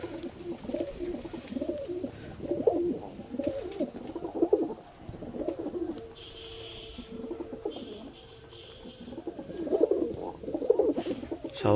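Pigeons coo repeatedly while being fed, soft rhythmic calls close by, with scattered chirps and faint rustling of birds moving around.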